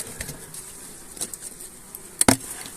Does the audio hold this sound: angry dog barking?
no